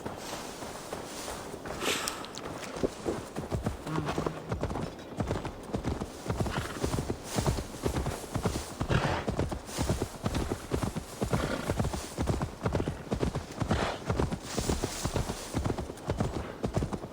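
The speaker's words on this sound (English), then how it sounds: "Now to deliver Magni his horse" A horse's hooves clip-clop steadily at a walking pace throughout, fairly close and even, in the video game Assassin's Creed Valhalla.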